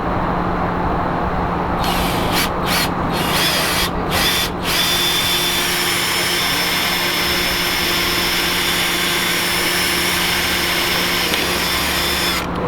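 A power drill whines steadily and loudly up close, bursting on and off briefly before running continuously as it bores holes in a 570 Charger for a wickerbill installation.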